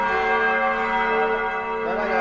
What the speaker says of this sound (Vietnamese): Ba quả luôn, ba quả chuông.